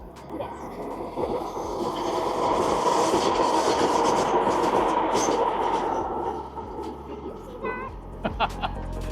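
A train passes along rail tracks, rising into a loud, sustained rumble and rattle of wagons that holds for several seconds, then fades, leaving a few sharp clicks near the end.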